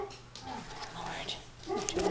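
Dogs in a house with puppies give soft barks and whimpers, quiet and somewhat distant, under faint household murmuring and low voices.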